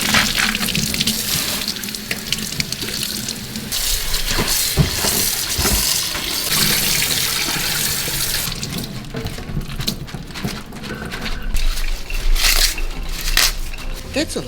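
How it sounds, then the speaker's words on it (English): A personal chef rinses a big batch of fruits and vegetables under a running kitchen tap, with steady splashing water, produce knocking and rustling in the sink, and intermittent clatters. "Now it's time to wash all of the fruits and vegetables."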